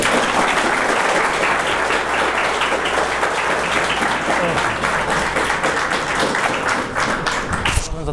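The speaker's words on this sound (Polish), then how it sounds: "Wielkie brawa." Students at a school gathering give loud, dense applause to welcome heavyweight boxer Mariusz Wach, steady throughout and ending with a sharp thump.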